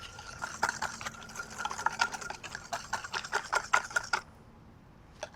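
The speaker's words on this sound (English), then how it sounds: "I'm going to add in my whole egg, brown sugar, and then give this a good whisk" Wet, quick clicking strokes of a whisk beating brown butter, a whole egg and brown sugar together in a bowl, close and steady for about four seconds before stopping, with no voices.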